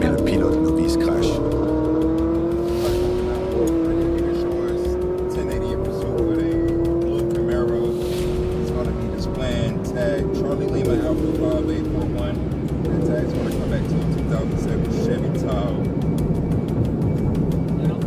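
A Chevrolet Tahoe with a 650-horsepower LT4 V8 accelerates hard on a highway, engine pitch climbing through gear shifts in a continuous loud roar, with a voice talking over it throughout.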